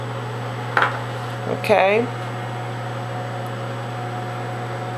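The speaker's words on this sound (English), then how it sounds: "So after it finished melting, you're going to take it out the microwave." A microwave oven runs while melting cream eyeliner, giving a steady, even hum throughout; a brief clatter and a short spoken word break in early on.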